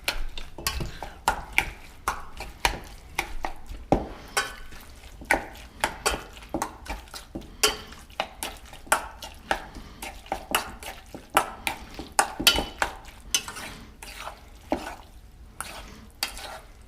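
Soy sauce is stirred into chicken and broccoli stir fry, a quick series of scraping, clinking utensil strokes against the pan at an irregular rhythm, close and fairly clear over a faint background.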